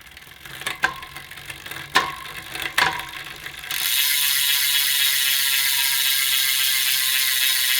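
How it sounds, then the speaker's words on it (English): Bicycle freehub on Elitewheels Drive 65D wheels: a few isolated clicking bursts as the wheel is nudged, then a steady fast ratcheting buzz from the freewheeling hub, close and loud. "here is a free hub sound test on these Elite Drive 65D era wheels"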